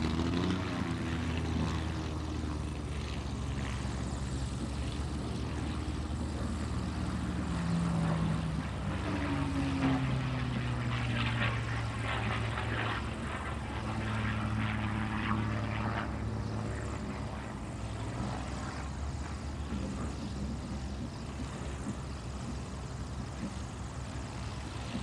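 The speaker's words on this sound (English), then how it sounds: "that beautiful P-51, the Brat 3 from the Kavanaugh Flight Museum." A P-51 propeller fighter at an aerospace expo air show gives a steady, distant engine drone that swells and fades slightly over a long stretch, with open-air crowd ambience and no clear speech.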